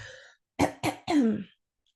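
Three harsh, close coughs in quick succession, the last one drawn out and throaty, following a brief breathy sound.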